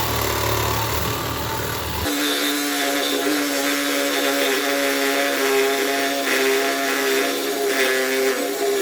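A power saw starts cutting a workpiece clamped in a Wilton ATV heavy duty vise, a loud, steady motor whine with grinding cut noise after a brief rumbling start, sustained and close.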